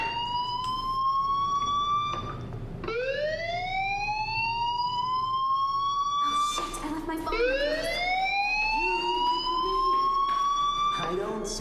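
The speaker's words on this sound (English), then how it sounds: "do you hear that fire alarm? That means you should be outside." School fire alarm in the video game Life is Strange, a loud rising electronic siren wail that sweeps up repeatedly in long cycles, heard alone without talk.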